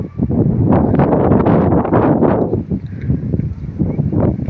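Strong gusts of cold wind buffet the microphone outdoors near swaying trees, a loud, rumbling rush that rises and falls in waves throughout.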